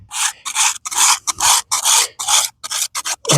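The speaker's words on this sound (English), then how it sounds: "So we'll give it the old quick scrape." A plastic or wooden scraper rasps across a headstone in steady, rhythmic strokes, loud and close, each pass a bright gritty scrape separated by short pauses, with no talking.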